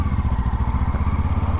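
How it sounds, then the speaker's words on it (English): A 2024 Kawasaki Ninja 500 motorcycle rolling at low speed, its engine giving a close, steady pulsing thrum for a brief moment with no talk. "The bike is just rolling and it just wants to stay up."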